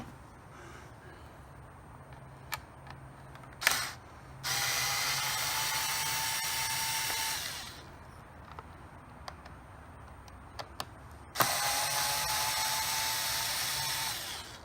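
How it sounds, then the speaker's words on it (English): Screws being removed from the throttle controller of an E-100 electric scooter, with two long steady whirs of a power driver separated by quiet spells, scattered clicks and a ratcheting tick. "let's take those two screws out that's holding the controller in so we can get that out of there"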